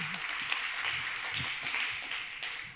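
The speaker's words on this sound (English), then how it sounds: "Give a big applause." Applause from a conference audience after an investor pitch on stage, a dense wash of many hands clapping at moderate volume, continuing steadily throughout.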